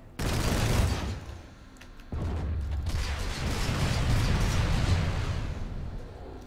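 Gunfire in the video game Planetside 2, heavy sustained bursts of automatic fire with booming weapon noise, a brief lull near two seconds, then dense firing again.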